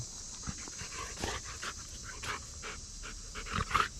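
A dog pants close by on a land-clearing site, with quick, uneven breaths and a few soft snorts and whimpers at a low, intimate level.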